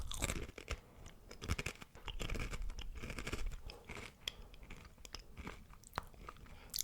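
A Korean fish-shaped snack with an onion flavour is chewed up close, giving continuous loud crunching and biting with crisp cracks and no speech.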